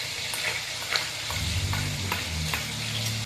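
Shrimp frying in a pan while spices are stirred in, steady sizzling crackle with scraping stir strokes close up.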